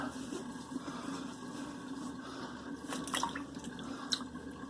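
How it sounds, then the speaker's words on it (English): Water draining and trickling in a bathroom sink while shave lather is rinsed off a face, a soft steady gurgle with faint splashes and drips, fairly close and quiet, no talk. "let's let that water out. Let's get this lather off my face"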